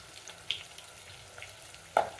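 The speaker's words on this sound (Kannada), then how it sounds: "ಕರಿಬೇವು ಅಷ್ಟೇ ಸಿಡಿಯುತ್ತೆ" Curry leaves splutter in hot oil during mango rice preparation, a quiet background sizzle broken by a couple of sharp pops, with no voices.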